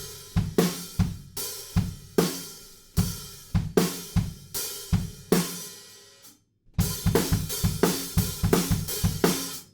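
A drum kit plays a normal rock beat from the bridge of a song, with punchy kick, snare and cymbal hits, a brief stop, then the groove resumes, close and loud without talk.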